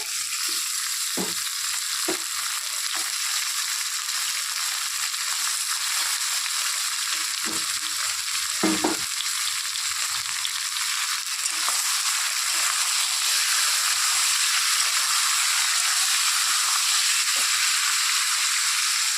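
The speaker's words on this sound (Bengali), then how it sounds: "পেঁয়াজটা লাল হয়ে গেছে ভাজা এখন এর মধ্যে দিয়ে দিব মটন" Marinated mutton fries with reddened fried onions in a pan, producing a loud, continuous hiss and sizzle throughout, with scattered spatula scrapes and knocks close by.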